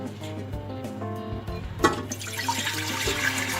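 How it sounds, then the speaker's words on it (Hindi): Water from a full jug is poured into a cooking pot while making chicken pulao, a continuous splashing pour that builds in intensity toward the end, with no talking. "सारा पानी डाल दें"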